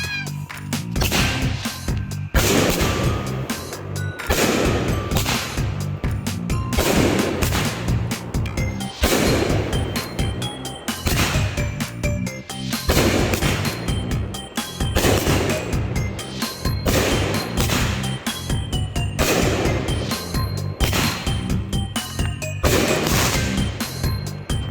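A Master of Explosion 2 fireworks cake goes off in a rapid series of loud, close bursts and crackles, repeating in regular volleys for the whole stretch.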